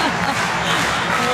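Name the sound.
volleyball arena crowd cheering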